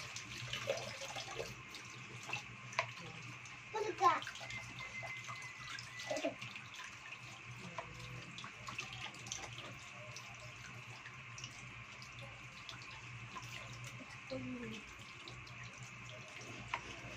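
A kitchen faucet runs steadily as something is rinsed under the stream, with soft splashes and occasional knocks against the sink, no talking.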